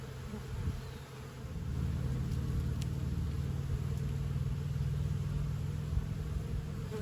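A dense, steady hum of honey bees swarms close around an open hive during beekeeping work on a mating nuc, continuous and unbroken with no talk.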